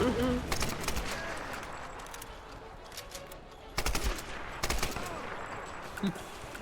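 Rapid gunfire bursts from Tomb Raider (2013) gameplay, with sharp volleys of shots around the middle and later in the clip over a steady low game background.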